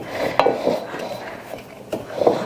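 A utensil stirs sugar and flour in a bowl, making soft, rhythmic scraping with occasional sharper clinks against the bowl's side, fairly close and without talk.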